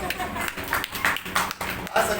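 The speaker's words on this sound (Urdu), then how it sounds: "تالیاں ساجد صاحب سے." A gathered audience at a religious sermon claps for Sajid sahib, producing a rhythmic patter of hand claps mixed under ongoing speech.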